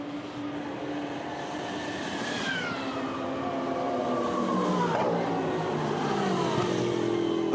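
Race cars at the 2013 Nurburgring 24 Hours, including the Falcon Porsche, roar continuously and close by, with engine notes rising and sweeping down in pitch as cars pass one after another.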